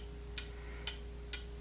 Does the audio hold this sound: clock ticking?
yes